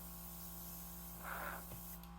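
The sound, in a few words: spray gun spraying holographic paint on a racecar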